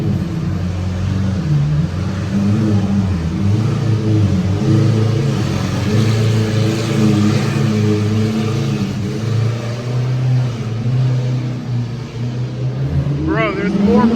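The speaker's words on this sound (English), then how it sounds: "There's more cars pulling up, bro." Cars pulling up and revving at a garage Cars and Coffee meet of supercars, sports cars and muscle cars, engine rumble rising and falling through the clip under excited nearby talk.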